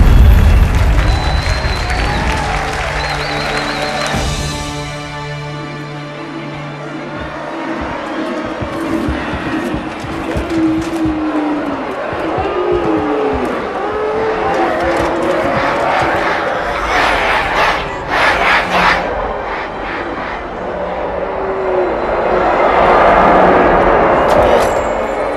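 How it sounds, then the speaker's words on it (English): A large crowd cheers and shouts in a loud, continuous roar that swells and falls, with scattered yells and other busy noise mixed in. "Quite a crowd."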